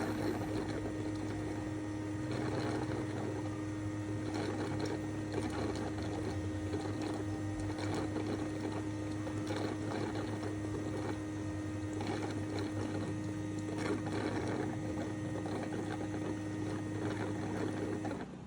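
A Roborock Qrevo robot vacuum and mop dock whirs steadily as it loads water, a continuous mechanical hum with a low drone and small fluctuating clicks running unbroken and fairly close throughout.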